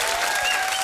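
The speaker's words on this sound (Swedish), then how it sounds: "ge en stor varm applåd för Panetos!" Dense, steady clapping from a studio audience at a Swedish TV bingo show fills the space, close and loud throughout.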